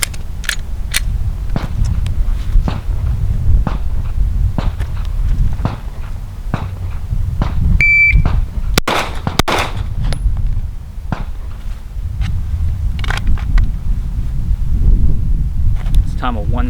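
Glock 19 pistol shots fired at 5 yards after a shot-timer beep. Sharp, loud cracks come in quick pairs against a windy outdoor background, with a single high electronic beep near the middle.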